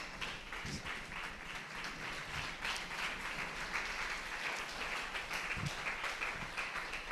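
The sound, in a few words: audience applause for the students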